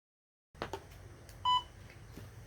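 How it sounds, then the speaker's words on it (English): After a short silence, a workout interval timer gives a clear electronic beep, then another begins at the very end, over faint room noise and light knocks. "I'm just going to knock the timer on"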